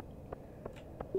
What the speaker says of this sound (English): The ghost sound would be a good notification for your phone.